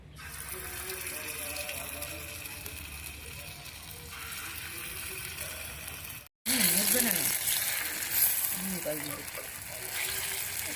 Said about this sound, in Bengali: তেলটা গরম হয়ে গেছে এবার মোচার কোপ্তাগুলো ভেজে নেব